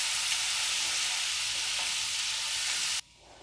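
Chopped onions hit hot oil in a pan for dhaba-style dal fry, giving a loud, steady, close sizzle for about three seconds before it cuts off to a quiet hiss.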